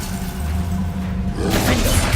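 Glacius ice spell shattering in Hogwarts Legacy, a crisp glassy burst that swells midway and rings on over low rumbling combat ambience, with no voices.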